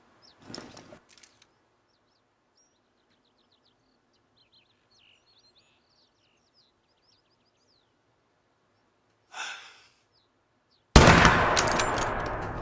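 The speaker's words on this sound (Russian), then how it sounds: "попробуем произвести один интересный выстрел из нашей новой винтовочки" A rifle shot rings out near the end in the hunting game theHunter: Call of the Wild, a loud sudden blast with a decaying tail, following a long quiet stretch of faint bird chirps in Spain.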